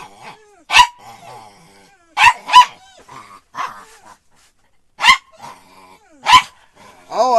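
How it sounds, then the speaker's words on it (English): A dog gives loud, sharp barks in irregular bursts, with softer growls and whimpers between them, heard close with no talking. "Why are you barking like that?"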